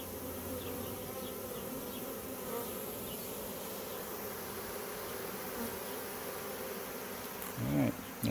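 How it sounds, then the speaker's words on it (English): A captured honey bee swarm hums in a dense, continuous outdoor drone, with bees still crawling in from the ground; the steady buzz holds for several seconds and a brief louder burst comes near the end. "There's some more bees on the ground that have to make their way in yet."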